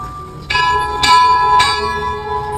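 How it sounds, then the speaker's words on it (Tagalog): A church bell rung by a priest for the Regina Coeli prayer sounds three slow, evenly spaced strokes, each ringing on and overlapping the next, loud and resonant against a low background hum. "tayo po ay magtutugtog na ng kampana para po magdasal ng Regina Cherry"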